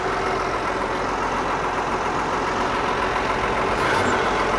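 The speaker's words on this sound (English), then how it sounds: "first time the TW's been on the hedge cutter" Ford TW tractor engine running steadily while driving a reach mower hedge cutter, a continuous loud broadband rumble and drone with no pauses, close by and dominating the scene.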